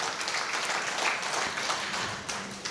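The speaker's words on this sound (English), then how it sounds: "very big round of applause for this great gentleman" Audience applause at a Lions International multiple-district convention, a steady, fairly distant wash of many hands clapping together, heard alone without speech.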